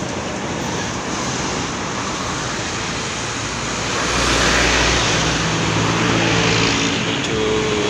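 A Pelita Indah bus rolls past on a road near Trenggalek, a steady broadband roar of engine and tyres that swells as it draws closest midway, with traffic noise around it and no talk.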